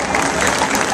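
Crowd applause at a street march, a dense, brief burst of clapping filling the air outdoors, with voices mixed in.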